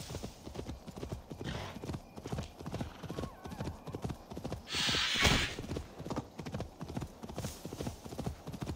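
In the video game Assassin's Creed Valhalla, rapid, rhythmic clip-clop of galloping horse hooves, continuous and close, with a brief burst of louder noise midway.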